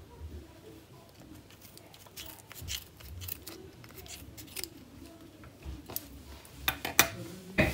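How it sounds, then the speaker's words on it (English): Sharp little snips and crisp clicks of small scissors cutting yarn, scattered irregularly over a soft background hush, with faint bird cooing in the distance. "Take your scissors, little sharp ones are best for this. Cut it open"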